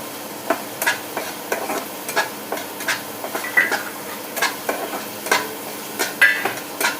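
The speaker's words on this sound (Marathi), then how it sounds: "कांदा मस्त परतून घेणार आहोत." Onions being stir-fried in a pan for a pasta dish, a steady sizzle broken by a regular run of spatula scrapes and stirs, close and moderately loud, with no talking.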